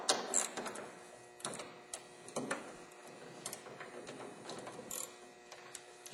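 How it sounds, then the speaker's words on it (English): A ratchet with an 8mm socket backs bolts out of a light on a Ford heavy-duty truck, giving quiet, irregular clicking ticks in short bursts, close and faint, with no talk. "We take our 8mm socket and our ratchet and we just turn those out counterclockwise."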